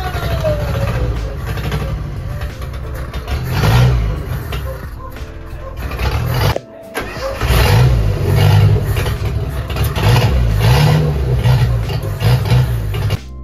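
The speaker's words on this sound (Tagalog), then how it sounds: "It is time for our newly refreshed 4K engine to wake up." A refreshed 4K engine in a restored Tamiya OTJ starts and revs, a loud, steady mechanical roar throughout with surging revs and one brief dip near the middle.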